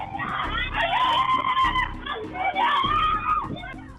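Surveillance camera recording of a street robbery in Peru in which mothers and two children are attacked: loud, frantic screaming and shouted pleas for help, rising and falling, with several voices overlapping.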